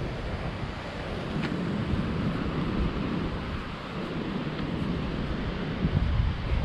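Atlantic Ocean surf and wind at natural sea pools on Tenerife, a steady broadband roar of waves with wind buffeting the microphone, continuous and fairly loud with no voices.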